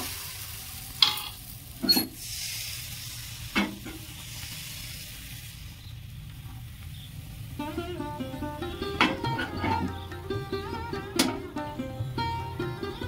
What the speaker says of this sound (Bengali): গরম হয়ে গেছে কড়া, আরো 1 হাতা ব্যাটার দেব।